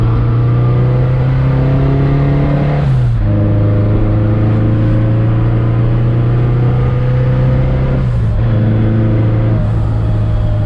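A supercharged Chevrolet Chevette engine holds a loud, steady high rev close by, dropping slightly in pitch twice as the throttle shifts, with no voices.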